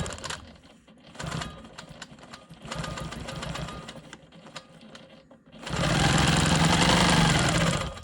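Sewing machine quilting parallel lines across a rolling stone quilt block, close rapid needle chatter in short stop-start bursts, then a louder sustained run near the end, with no talk.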